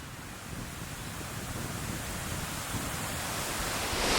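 The waterfall at Ball's Falls, Ontario, flows strongly and produces a constant broad roar of rushing water that swells slightly toward the end.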